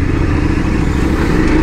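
A Voge 900DSX motorcycle is being ridden, its engine giving a steady, close mid-pitched drone with road noise and no voices.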